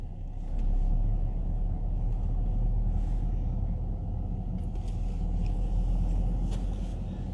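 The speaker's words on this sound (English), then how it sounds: "So we are driving now in the main road" A car driving along the stone main road of Caccamo, Sicily, a steady low engine and road rumble heard from inside, constant and fairly loud throughout.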